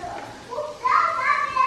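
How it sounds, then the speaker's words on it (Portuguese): Someone shouts and calls out in the background of a home kitchen, a rising, strained voice that grows louder and stretches into a sustained yell near the end. "O Lucas gritando, tá lá."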